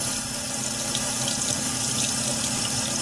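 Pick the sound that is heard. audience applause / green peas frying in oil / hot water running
hot water running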